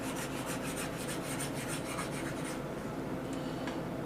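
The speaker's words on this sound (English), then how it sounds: "let me erase what we just did" Rapid back-and-forth rubbing strokes of an eraser wiping writing off a board, close and fairly quiet, slowing to a few scattered swipes toward the end.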